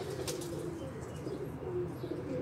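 A golden pigeon of an old pure breed coos softly, a low, faint murmuring call close by, with a brief chirp near the start over quiet background noise.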